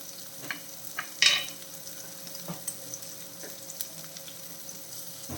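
Shallots and prawns frying in a pan give a steady sizzle, broken by a few sharp clinks and scrapes as the pieces are stirred and turned.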